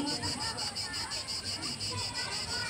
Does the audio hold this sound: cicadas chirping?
yes